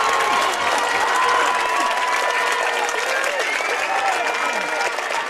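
A large crowd at a Gaelic football match roars and applauds after a big score, a dense, loud and sustained wash of clapping and cheering with a commentator's voice running over it.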